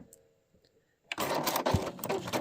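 A sewing machine stitching a mini zipper pouch starts up after a near-silent moment and runs steadily with a dense, continuous mechanical whir, close and fairly loud.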